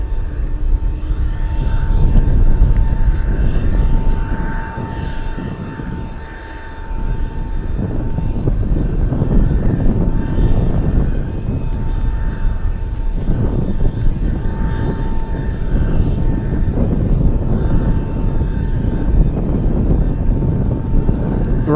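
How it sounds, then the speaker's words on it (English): An Atlas Air cargo jet, Giant 8692 bound for Guadalajara, taking off from runway 15 at Anchorage in gusty winds, giving a steady loud engine roar with wind buffeting the microphone and a brief dip in the middle. "we're going to be zooming in to the takeoff Atlas Giant 8692 flying to Guadalajara"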